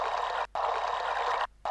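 Steady stream of flowing water in the puzzle adventure game Myst, heard through static, cutting out twice for brief gaps before resuming at the same level.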